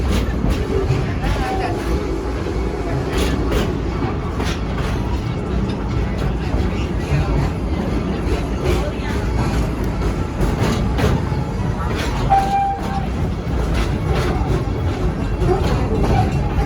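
The Serengeti Express ride train rolls steadily along with a continuous low rumble and faint rhythmic clatter of wheels on rails, no clear talking.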